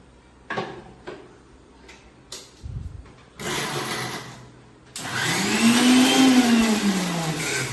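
A mixer grinder whirs as it spins chutney with chili powder and salt, starting with a few short bumps and pulses before rising into a loud, sustained whine with a steady motor hum.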